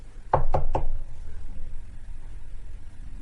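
Three quick, loud knocks on a door, close by and evenly spaced, followed by quiet room tone.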